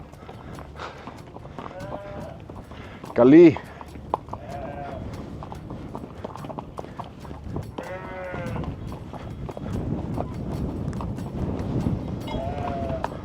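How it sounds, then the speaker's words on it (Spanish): A flock of sheep near Petra, Jordan, bleats repeatedly from near and far over a steady shuffle of hooves, with a short loud shout breaking in partway through and brief talk. "Aquí llegamos a un rebaño de ovejas."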